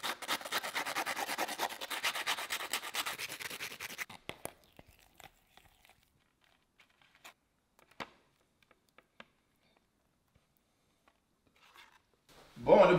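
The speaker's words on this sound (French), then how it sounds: "on va gratter avec un couteau un peu" Knife scraping the burnt surface off breakfast muffins, a dense, rapid rasping for about four seconds, then a few faint scattered scratches and ticks, with a voice at the very end.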